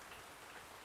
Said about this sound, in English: Soon torrents of water are pelting the ground.